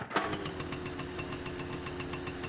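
Small motorbike engine in My Summer Car catching with a sharp start, then settling into a steady, rapid idle with a regular low putter, moderately quiet and alone.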